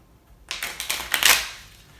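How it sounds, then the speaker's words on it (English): A borrowed deck of playing cards is shuffled during a card trick: a silent start, then a series of crisp, riffling bursts over about a second and a half that peak and fade, close and clear with no talking. "So you take the cards and you shuffle them."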